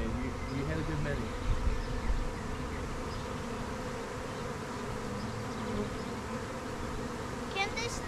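A honeybee swarm in South Central Pennsylvania in April gives a dense, steady buzz that fills the air, loud and close, with faint voices nearby.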